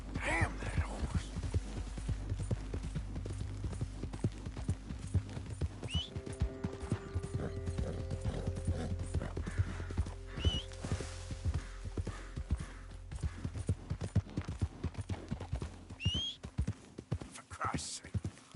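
Horse hooves clip-clopping in a steady rhythm through the Western open-world video game Red Dead Redemption 2, with a brief whinny and a low background hum, under scattered speech.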